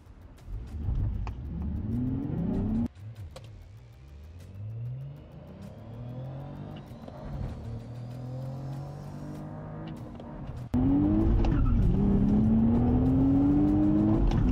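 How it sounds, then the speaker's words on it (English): Cadillac CT4 V Blackwing, Toyota GR Supra and Nissan Z line up for a rear-wheel-drive drag race, with loud close engine revving and rising gear-by-gear acceleration pulls, a brief lull, then a hard surge of engine roar. "if I do a very hard launch, I will spin like crazy"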